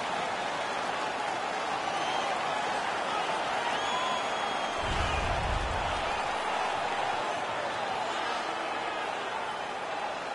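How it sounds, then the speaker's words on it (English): A video game hockey arena crowd in NHL 16 roars steadily and loudly throughout, a dense continuous wash of cheering that swells briefly in the middle. "The crowd is ecstatic."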